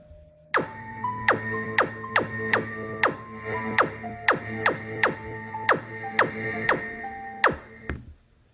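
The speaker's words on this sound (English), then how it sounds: "I just slowed down and then repeated it to make it like gunshots" A rapid series of about a dozen sharp, pitched synthetic bangs from a slowed, repeated gunshot sample, evenly spaced like a burst of gunfire, loud and close with no voices.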